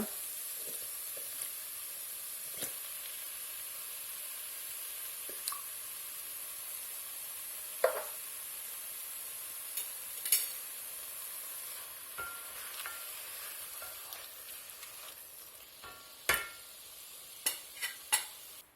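Tomatoes frying in a pan for a chickpea curry give a soft, steady sizzle close by, broken by a few sharp clinks and scrapes of stirring, with no one talking.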